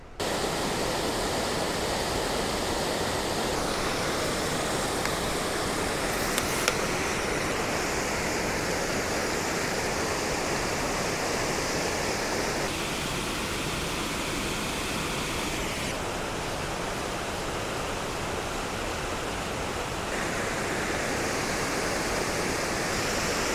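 Waterfalls seen from a small bridge roar with a dense, constant rushing wash of falling water, loud and unbroken for the whole stretch, with no voices.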